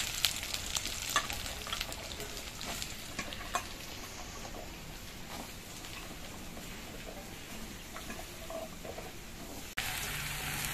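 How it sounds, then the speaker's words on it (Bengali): Vegetables frying in oil with ginger paste for a khichuri thali, a long even crackling sizzle with intermittent stirring clatters and spatula knocks, close and fairly quiet, no talk. "আদাগুলো একটু লাল হয়ে যাওয়ার পর এর মধ্যে সবজিগুলো দিয়ে দিচ্ছি।"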